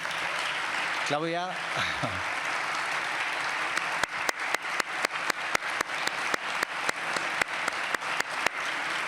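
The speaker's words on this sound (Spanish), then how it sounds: "les diéramos un aplauso" Audience applause at a Christmas gala in a hall, broad steady clapping from a crowd with a voice speaking over it early on, then a run of sharp individual claps standing out near the end.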